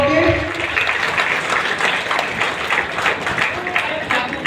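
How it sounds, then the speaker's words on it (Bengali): A crowd at a community hall event claps loudly, a continuous wash of applause that holds steady, with a voice speaking over the start. "জোরে হাততালি"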